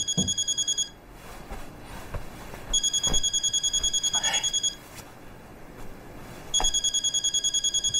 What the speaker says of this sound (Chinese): 你老婆又给你打电话了？